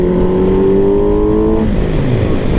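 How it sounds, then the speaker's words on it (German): A Kawasaki Z800 motorcycle with an Akrapovic exhaust revs down, its loud, close engine tone falling steadily then breaking into a burbling rumble as the revs drop, with no voices. "das macht halt wirklich schon echt geile Klänge und da blubbert der Auspuff einfach schon raus"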